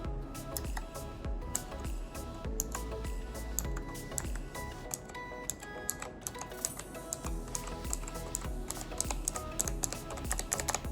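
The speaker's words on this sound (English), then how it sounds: "So the Pudding keycaps also has a clicky sound that's fairly loud." Keystrokes on a mechanical keyboard fitted with HyperX Pudding keycaps, a steady run of fast, fairly loud clicky taps at close range with no talking.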